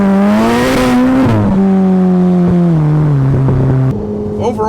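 Ferrari F8 Tributo accelerating hard through first and second gear, a loud close engine wail climbing in pitch, dropping at a shift, then climbing again before cutting off near the end.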